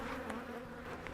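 Dense, steady buzzing of many honeybees swarming close by during a hive inspection, a continuous droning hum with no voices.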